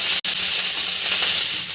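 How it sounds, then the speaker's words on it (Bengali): Bottle gourd greens fry in hot oil with a loud, steady, close-up sizzle that cuts out for a split second near the start, with no voices. "এই লাউ শাকগুলোকে একটু 1-2 মিনিট ধরে ভালো করে নেড়ে চেড়ে ভেজে নিতে হবে।"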